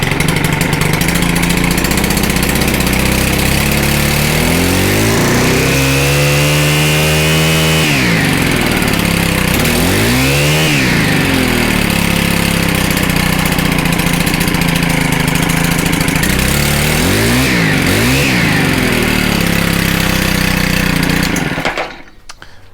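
A Stihl two-stroke engine held near full throttle, loud and close, with several rising and falling revs over a continuous roar before it cuts off abruptly at the end, with no voices.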